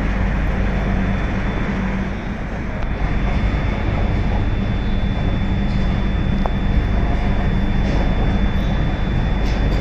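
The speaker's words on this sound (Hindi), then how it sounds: "देख सकते हैं दोस्तों हमारी धीरे धीरे ट्रेन डिपार्ट हो रही है गोंदिया रेलवे स्टेशन से।" The Bilaspur Rajdhani Express pulls slowly out of Gondia railway station with a steady low rumble and a hum, under constant wind buffeting on the microphone.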